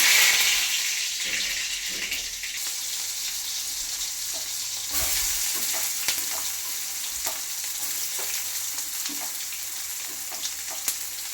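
Mustard seeds and curry leaves sizzle and crackle steadily in hot oil for a dal-style palya with avarekalu, a close, continuous frying hiss with scattered pops and a brief stir near the middle.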